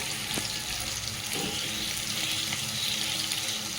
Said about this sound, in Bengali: পেঁয়াজ লঙ্কা সব কড়াইতে দিয়ে দিয়েছি